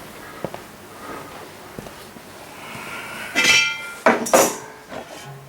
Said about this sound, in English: throw the lid on.